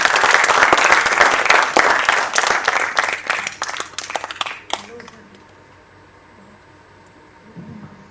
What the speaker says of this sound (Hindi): एक बार आप लोग जोरदार ताली से स्वागत कीजिए